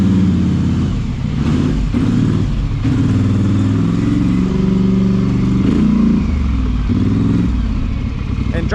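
A straight-piped four-wheeler ATV engine revs loudly and close, its rough, throaty exhaust surging and falling in repeated throttle blips, with a voice talking over it.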